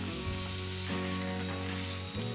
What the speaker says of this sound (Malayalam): ഇനി ഇതിലേക്ക് കഴുകി വെച്ചിരിക്കുന്ന ചിക്കൻ ചേർത്ത് കൊടുക്കാം.